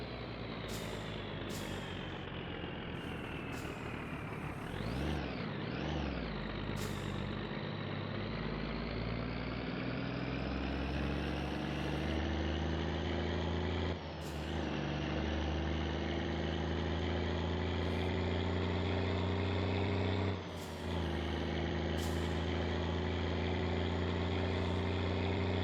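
Steady, loud engine drone of a car in the driving game My Summer Car, running continuously with brief dips in level, heard alone without talk.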